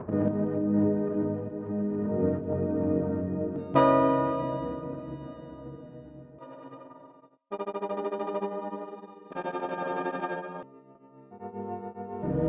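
A melodic synth line passes through changing effects from the Cymatics Dark Sky plugin, its tone shifting between sections with sudden cuts and brief gaps, loud and close throughout.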